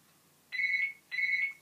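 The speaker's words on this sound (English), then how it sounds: "and the phone's ringing." A phone rings nearby in two clear, even electronic bursts with a short gap between them, with no speech over it.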